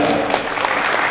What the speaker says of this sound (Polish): Na początku wielkie, ogromne brawa dla Piotra Reslika,